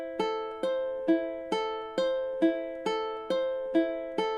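A solo ukulele plucks the intro measure of The Last of Us theme in even triplets. Single notes ring out close and clear, about two per second, each decaying before the next.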